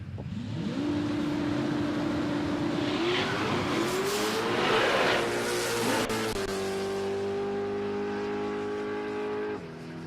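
A Mustang drag car launches down the strip at a drag challenge at Palmyra Raceway, its engine roaring loud and close as it revs up through a gear shift with a rising pitch, then holds a steady high drone before cutting off.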